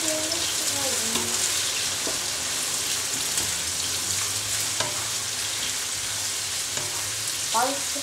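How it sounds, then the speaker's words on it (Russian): Eggplant caviar frying in a pan while being stirred, giving a steady, dense sizzle throughout with occasional scraping stirs, close and fairly loud, with no talking. "Перемешиваем."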